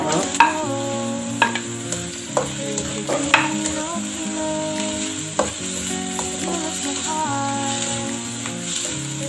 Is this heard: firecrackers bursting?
no